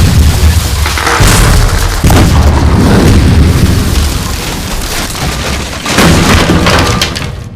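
Loud, heavy booms crash again and again over several seconds, like cannon fire, with rumbling and breaking debris between the blasts.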